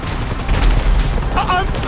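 Gunfire in GTA V during a shootout: dense, continuous rattling of shots and booms forms a loud, busy wash throughout, with no pauses.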